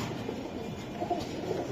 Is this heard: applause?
no